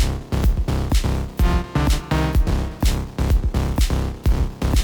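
A music track plays with steady, punchy beats and layered synth tones, loud and continuous with no voices.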